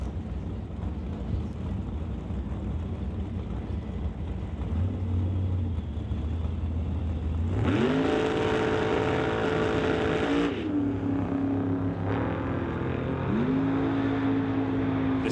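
NHRA drag cars make a pass under steady wind noise, their engines rising in pitch as they accelerate, surging loudly midway, then revving up again.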